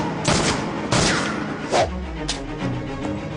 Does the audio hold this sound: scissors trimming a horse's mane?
no